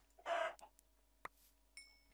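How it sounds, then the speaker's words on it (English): A chicken in the game Minecraft gives a loud burst of clucking, followed by a few short clicks and a brief electronic tone, with no talk over it. "What is that? It's a chicken."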